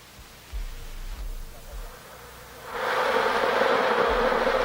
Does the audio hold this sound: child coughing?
no